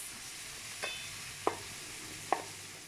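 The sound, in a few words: stirring paprika and spices in a sizzling pan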